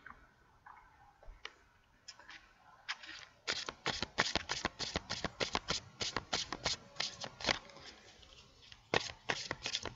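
Tarot cards shuffled by hand in a close, quiet room: a few soft slides, then rapid, crisp flicking and snapping in dense bursts with brief pauses, and no voice.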